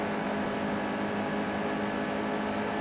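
Race car engine in NASCAR Heat 2 holds a steady, dense roar under throttle, a continuous loud drone with no talk over it.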